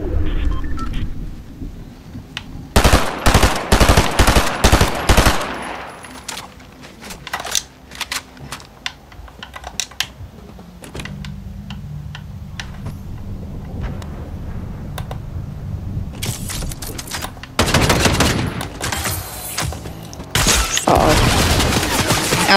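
Bursts of video-game gunfire crackle in dense rapid volleys, loud and close, with quieter stretches of scattered shots and rumbling between the heavier barrages.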